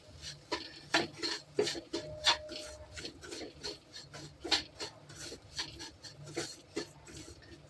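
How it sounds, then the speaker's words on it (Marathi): Semolina roasting in ghee in a pan over medium to low gas, stirred with a steady rhythmic scrape of the spoon across the pan, repeated strokes close and clear with no voices. "चांगला भाजून मीडियम टू लो गॅसवर रवा चांगला भाजून घेऊया."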